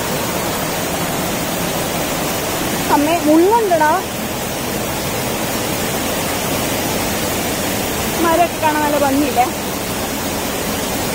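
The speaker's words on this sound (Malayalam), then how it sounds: "ഈ വെള്ളച്ചാട്ടത്തിന്റെ സൗണ്ട് കാരണം ഞാൻ പറയുന്നൊക്കെ കേൾക്കുവാന്നറിയില്ല" Waterfall at Kottiyoor pours with a loud, steady broadband roar that fills the whole scene, while a nearby voice speaks briefly over it twice.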